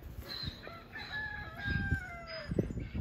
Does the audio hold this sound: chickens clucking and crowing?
yes